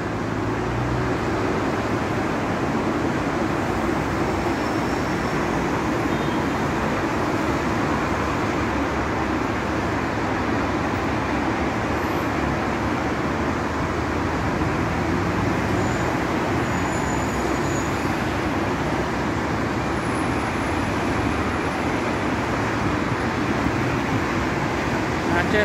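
Congested night traffic on Madinah Road in Jeddah, a steady dense roar of cars, buses and trucks inching along, continuous and fairly loud throughout with no clear breaks.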